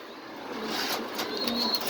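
Pigeons coo softly among foreign breeds kept by a pigeon seller in Mirpur, a faint, low murmur over quiet background noise.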